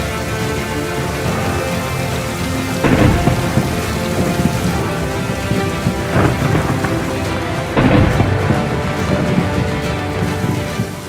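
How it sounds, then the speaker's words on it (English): Heavy rain pours steadily during a rare desert thunderstorm in the rainy season, with two loud, close rumbles of thunder rolling over the constant downpour. "one of the few storms of the entire year was about to commence."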